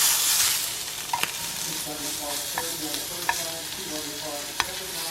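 Meat sizzles and spits steadily in a hot pan right after being turned over, a dense frying hiss with occasional sharp pops and crackles close by.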